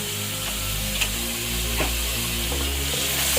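Soy and chilli sauces frying in a pan for a chicken patty filling, with a loud, continuous close sizzle and faint stirring taps, without speech.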